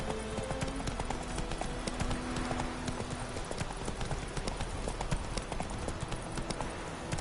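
Horse hooves clip-clop in a steady trotting rhythm as Geralt rides his horse Roach in The Witcher video game, close and continuous, with faint ambient noise underneath.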